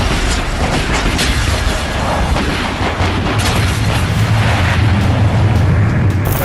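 Blasting at the Zojila tunnel construction site produces a loud, continuous roar and rumble that fills the whole stretch with no pause.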